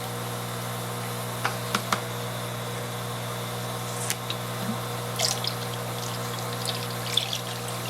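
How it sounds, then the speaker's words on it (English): A steady low hum from an aquarium siphon drawing water and debris off the bottom of a clownfish grow-out tank, with scattered faint drips and gurgles over about eight seconds, no talk. "I'm going to restart my siphon because it doesn't seem to be going as strong as I want it to be"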